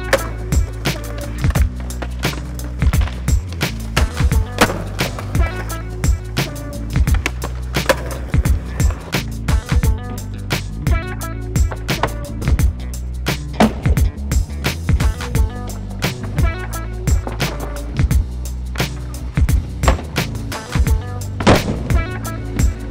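Skateboard practice for a triple kickflip, with repeated sharp pops, wheel rolling and board clacks over continuous background music throughout.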